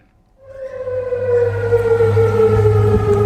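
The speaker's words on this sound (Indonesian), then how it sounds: "sirene meraung di kota Amman saat angkatan bersenjata Yordania mencegat" A civil defense siren wails over Amman, Jordan, during an Iranian missile attack. It swells in loudly and then holds a steady, sustained tone, with no voices.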